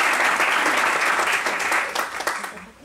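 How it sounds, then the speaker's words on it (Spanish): Enthusiastic crowd applause, a dense wash of clapping that holds steady and then begins to taper off toward the end. "el moderador Javi, de Arte Prisma, también le damos un fuerte aplauso."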